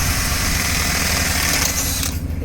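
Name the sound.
freestall barn curtains being closed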